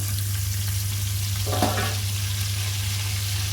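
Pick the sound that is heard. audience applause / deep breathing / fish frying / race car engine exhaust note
fish frying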